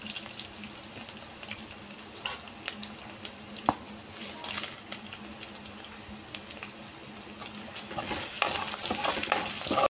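Two dried red chillies crackle and sizzle as they fry in hot oil for a green chilli and onion chutney, with a steady close hiss, scattered pops and occasional spoon stirring, busier toward the end.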